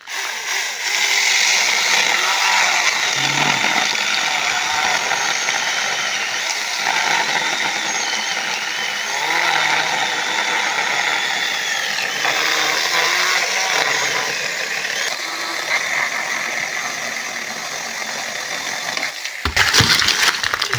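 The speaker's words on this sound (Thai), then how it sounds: "อันนี้ก็เป็นเลื่อยบาร์หกนิ้วไร้สายของ ด็อกเตอร์วูดนะฮะ" A cordless chainsaw with a 6-inch bar cuts through a large mango branch: a loud, close, continuous buzzing rasp that holds steady for about twenty seconds, then breaks off into a brief harsher burst at the end.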